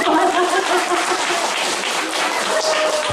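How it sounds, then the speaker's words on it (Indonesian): An audience at an evangelistic revival gathering in Sumba, Waingapu, breaks into steady sustained applause, a dense wash of many hands clapping at once that fills the space throughout. "Berikan tepuk tangan kepada."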